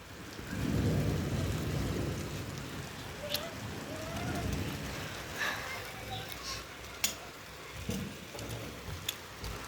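Rain falls steadily on surfaces during a storm in Kayseri, with low rolling thunder swelling near and far and a few sharp crackling strikes, no voices heard.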